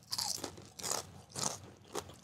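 Crispy twice-fried seasoned fries from a fusion restaurant are bitten and chewed close to the mic, three or four loud crunchy bursts with short pauses between them and no talk.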